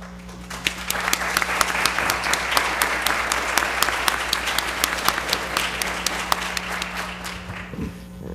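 An audience at a medical school inaugural lecture breaks into a round of applause, with crisp, dense clapping that holds steady for several seconds alongside a constant low electrical hum.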